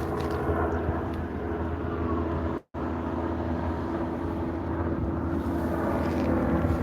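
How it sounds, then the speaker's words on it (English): Helicopters fly around overhead, a steady broad rumbling roar that holds for several seconds, moderately loud and distant, with one brief dropout. "A lot of helicopters around here."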